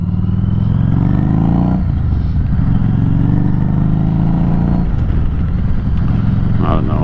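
A motorcycle engine drones loud and steady close to the microphone as the rider picks up speed, its low rumble shifting in pitch mid-run while a voice talks over it.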